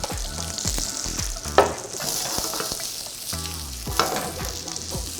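Vegetables tossed in scallion oil in a hot pan for jjamppong give a steady, close sizzle, broken by repeated scraping and clanking stir strokes and a couple of sharper knocks, with no talking.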